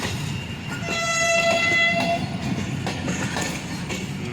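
Musa Pak Express passenger train running between Lahore and Karachi, heard at a railway station: a steady rumble of cars with a sustained horn tone early on, then rhythmic wheel clatter, fairly close, with no speech.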